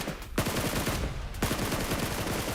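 Rapid automatic gunfire in the video game PUBG Mobile during a competitive esports match: two dense bursts of shots, loud and close, separated by short pauses, with no voices.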